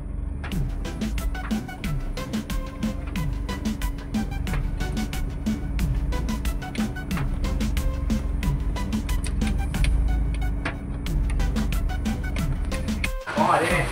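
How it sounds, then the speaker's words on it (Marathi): A truck drives into a loading yard at night during rain, its engine a steady low rumble with a repeated ticking over it, while voices talk throughout. "आम्ही आत्ता गाडी घेतली आतमध्ये."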